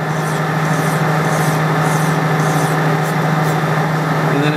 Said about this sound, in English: I'm cleaning the crud out of the file with my hand